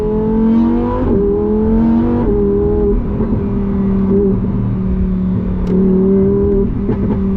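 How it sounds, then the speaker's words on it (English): A 2025 Lamborghini Huracan Tecnica's V10 sings a loud, continuous exhaust note, its revs rising and falling through steady harmonic tones, close up with no talking. "V10 Symphony, the pops and bangs, the exhaust note, the frequency of the sound frequency of the V10 is just, oh, it's just music to my ears"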